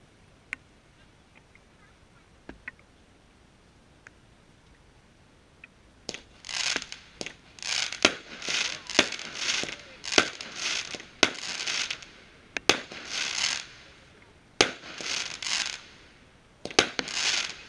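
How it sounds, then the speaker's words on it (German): Nexus fireworks, a 20 mm 15-shot cake firing silver fountains and crackling bouquets at a German New Year's Eve demonstration: faint thuds first, then a loud run of sharp crackling bursts in quick succession. "die Nexus, silberne Feuersäulen aus lautstarkem Crackling, darüber prachtvolle Bouquets aus knisternden Cracklingwolken"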